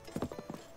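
Horse hooves clip-clop in Zelda: Breath of the Wild as a royal white stallion trots along, several evenly spaced hoofbeats sounding moderately close and fairly quiet, with no talking over them.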